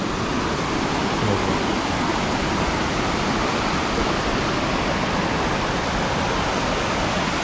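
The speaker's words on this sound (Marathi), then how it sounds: "इकडे पाणी पडतं ना खालच्या बाजून धबधबा" A waterfall roars in a dense, unbroken rush of noise, loud and steady throughout with no other sounds standing out.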